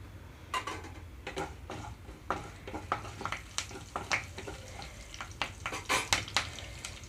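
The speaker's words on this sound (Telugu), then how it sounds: "ఇందులోనే కరివేపాకు, పచ్చిమిరపకాయలు వేస్తున్నాను" Crackling and popping as curry leaves and green chillies hit hot oil, with irregular sharp spits and ticks over a low hiss, close by.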